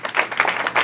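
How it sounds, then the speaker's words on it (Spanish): A brief, loud burst of audience clapping at a leadership school gathering, lasting under a second with dense, uneven hand claps and no voices over it. "Fuerte aplauso."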